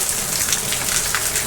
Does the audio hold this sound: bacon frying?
no